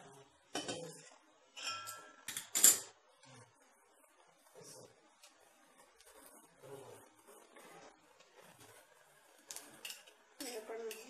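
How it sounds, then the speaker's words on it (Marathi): Drumstick pods go into a pan of well-fried masala and are stirred, giving clinks and scrapes of a utensil against the pan in short bursts, with several louder clatters, faint between. "आता यात आपण ज्या शेवग्याच्या शेंगा आहेत त्या घालणार आहोत."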